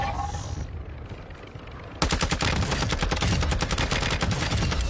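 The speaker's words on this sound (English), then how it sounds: "I couldn't tell if that was a real person shooting at me or a bot." Automatic gunfire rattles in a video game: faint distant shots at first, then a close, loud burst of rapid fire that runs steadily to the end.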